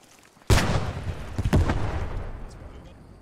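Tank cannon fire in a military video game: one sudden loud blast at half a second, then a second nearby boom about a second later, each trailing into rumble, with players talking over the radio.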